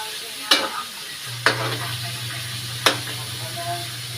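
A spoon scrapes through food frying in a home kitchen pan, three sharp strokes spaced apart over a low steady sizzle, with a faint hum underneath and no talking.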